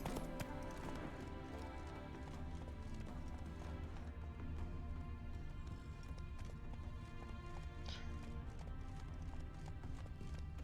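Geralt's horse Roach galloping in The Witcher 3: Wild Hunt: a continuous, rapid hoofbeat rhythm buried under a dense, loud game soundtrack and ambience, without clear speech.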